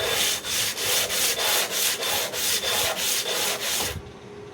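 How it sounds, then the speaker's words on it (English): An Amal Concentric carburetor part is rubbed back and forth on rough sandpaper fixed to a clipboard, about a dozen rhythmic close scraping strokes, then stopping. "we're going to get this all cleared up and smooth on the rough sandpaper that's on a clipboard."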